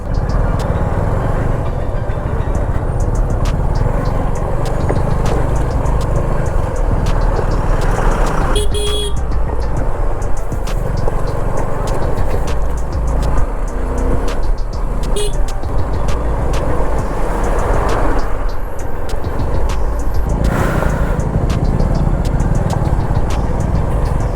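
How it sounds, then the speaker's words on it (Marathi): Dense road traffic jam on a ride from Kankavli to Mumbai, heard from a Suzuki V-Strom 250 motorcycle: a continuous loud engine and wind rumble, with scattered vehicle horn toots throughout, close and constant, with no talking. "इकडे तर पूर्ण जामच आहे भाई दूर दूरपर्यंत फक्त गाड्याच दिसतात"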